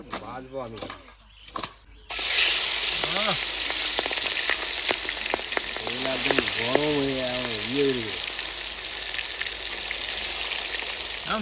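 Food frying hot in a pan in a home kitchen, a steady loud sizzle that kicks in abruptly and continues throughout, with people talking over it at first.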